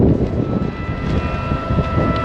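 Gusty wind buffets the microphone during corn and soybean planting in an Illinois field, with a steady low roar and rumbling, loud and continuous throughout, no voices heard.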